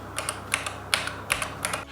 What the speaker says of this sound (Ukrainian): клавіатура виявилась досить дзвінкою та гучною